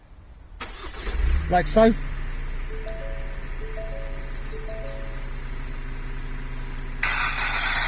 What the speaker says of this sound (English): So I'm going to remotely start it.